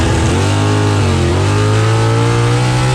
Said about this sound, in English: After the car launched properly, it kind of stumbled and fell down and then got right back up and took off.